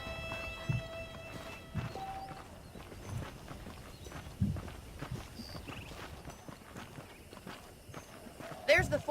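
Horse hooves in the video game Red Dead Redemption clip-clop at a slow, steady walking pace, moderately close, with people talking over them and a brief whinny near the end.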